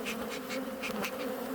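Black honeybees buzz steadily around an open hive during a late winter inspection, a close, continuous hum with swelling wingbeat tones as individual bees pass near, with no talk.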